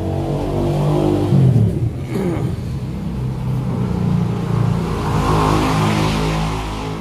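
A Nissan Almera 1.5 with an engine that keeps losing power revs loudly and close by, its pitch swelling and sagging with a rough, uneven edge, and no clear speech over it.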